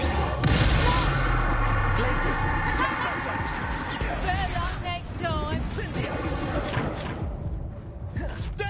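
A Confringo blast spell fired in a Hogwarts video game, a dense roaring burst of explosions and whooshes that carries on steadily with game sound effects and voices mixed in.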